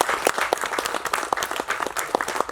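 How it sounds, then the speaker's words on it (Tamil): An audience claps steadily at an event honouring Abdul Kalam: dense, even applause from a crowd, fairly close and continuous throughout, with no speech over it. "நீங்கள் எல்லாரும் ஒரு கைத்தட்டல் கொடுங்க ப்ளீஸ்"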